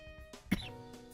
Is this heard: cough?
yes